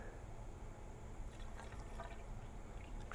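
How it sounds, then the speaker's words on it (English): Water poured into the open upper radiator hose of a Chevy S10 with a 2.8 engine, a faint steady gurgling trickle with light splashes, no talking. "pour some water down in it to sort of get some on the thermostat"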